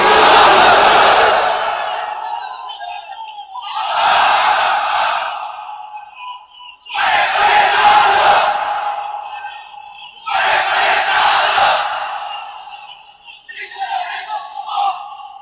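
A large crowd at an Islamic sermon gathering chants the takbir in loud, roaring unison. Four or five separate shouted bursts rise and fall, with brief quieter gaps between them.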